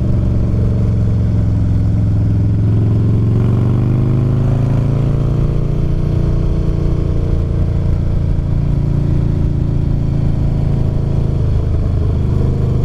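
Motorcycle exhaust droning steadily and loud up close while riding the Tail of the Dragon road, a low rumbling engine note with gradual pitch shifts as the bike accelerates, no voices over it.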